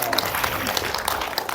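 A group at an elder-care class claps in a brief, dense burst of applause that fills the short moment, with voices mixed in.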